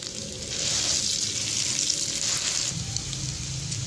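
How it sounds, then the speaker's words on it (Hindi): Egg sandwich pieces frying in a pan produce a steady, close, fairly loud hiss that swells partway through and then eases slightly, with no voices. "दूसरी साइड से इसे फ्राई करने के लिए दूसरे पीस की भी साइड में चेंज कर दूंगी, ऐसे ही अच्छे से इसे फ्राई करने के लिए"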